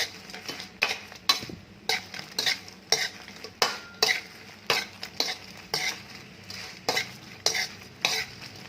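Shrimp stirred in a pan with salt and seasoning powder, a spatula scraping in a regular rhythm about once a second over a soft continuous sizzle, close and fairly quiet.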